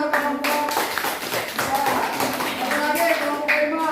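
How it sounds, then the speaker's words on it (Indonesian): A classroom of children claps for a student group, loud, continuous clapping with voices and chatter mixed in throughout. "tepuk tangan untuk kelompok"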